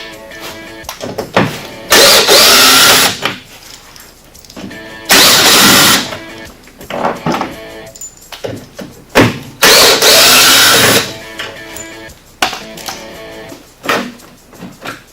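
A power tool backs screws out of the rear valance of a RZR side-by-side, several loud, close bursts of whirring driver lasting one to two seconds each, separated by quieter pauses and handling clatter.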